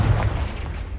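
Explosive Confringo spell cast in Hogwarts Legacy, a short, dense booming burst with heavy low rumble that holds steady for about a second, loud and close with no voices.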